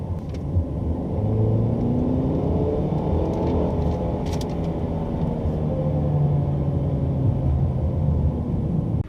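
A 2017 Mercedes-Benz C-Class Coupe engine drones steadily while driving, a loud continuous low rumble with rising and falling engine tones heard from inside the cabin.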